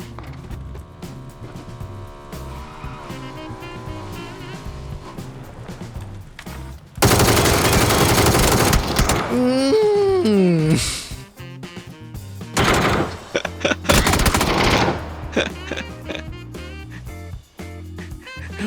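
Automatic rifle fire in the battle royale game PUBG, long sustained bursts in the middle with scattered shots after, loud and close, alongside game effects.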